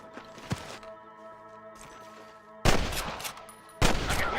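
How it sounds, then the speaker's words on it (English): Gunfire rings out in the video game Red Dead Redemption, a few scattered shots followed by two loud bursts of rapid firing, with a faint musical score underneath. "I can hear more gunshots."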